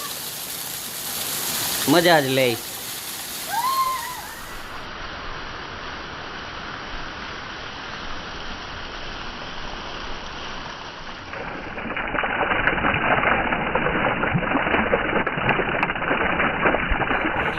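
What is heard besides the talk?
heavy rain and flowing water in Junagadh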